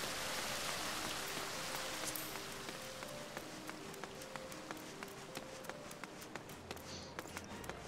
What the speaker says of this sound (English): Ah, it's raining in Ul'dah.